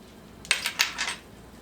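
A spoon scrapes and clacks around a skillet of beef macaroni in a few quick, close strokes, brief and moderately loud over a quiet background.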